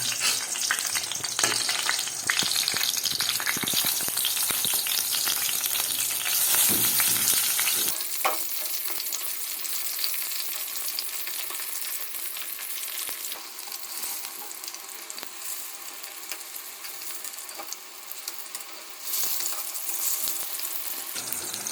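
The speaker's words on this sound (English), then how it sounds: "Now I fry the aubergine" Aubergine slices fry in a pan of oil for Palestinian maqluba. A loud, continuous bubbling sizzle with crackling is heard up close, easing slightly partway through as the frying continues.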